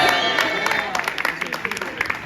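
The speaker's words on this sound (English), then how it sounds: "I want to give one more big round of applause for our contestants." People at the HEATSKRS convention clap for contestants in a quick, scattered round of applause, with voices mixed in.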